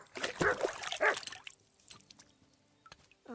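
A dog in the video game Kingdom Come Deliverance 2 gives two short barks close by, followed by faint quieter rustling and soft clicks.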